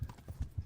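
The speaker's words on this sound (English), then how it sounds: "Controlling the horse is not my favorite part of this game so far." Horse hooves in Kingdom Come: Deliverance clip-clop in a brief, fairly quiet run of four evenly spaced thuds, with nothing else over them.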